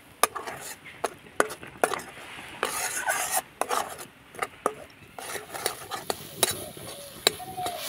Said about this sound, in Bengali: তো গাজরটাকে আমি একটু নাড়াচাড়া করে ঘিয়ের সঙ্গে ভেজে নিয়েছি।